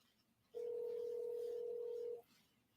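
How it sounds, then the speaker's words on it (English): A telephone dial tone sounds as a call is being placed: one steady, clear tone lasting about a second and a half, alone against faint background noise. "Yes, I'm making a phone call while I'm live."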